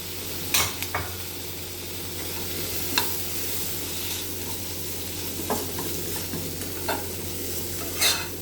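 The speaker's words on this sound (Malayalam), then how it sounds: "നന്നായിട്ടൊന്ന് വഴറ്റി ഒരു പിടി നാളികേരം ഇട്ട് കൊടുക്കുന്നുണ്ട്" Grated coconut sizzles gently in a hot pan while a spoon stirs it, with a steady frying hiss underneath and a few sharp scraping clicks scattered across the stretch, close and unaccompanied by talk.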